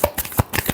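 A deck of tarot cards is shuffled close up, with several quick riffling flutters in a rapid, uneven rhythm over under a second.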